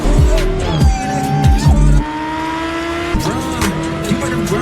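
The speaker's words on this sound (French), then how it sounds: "Je conduisais à toute vitesse sur une route de montagne sinueuse." Car speeding along a winding mountain road, loud engine revs rising and dropping with gear shifts and screeching tires, mixed with music and effects in a dramatic film scene.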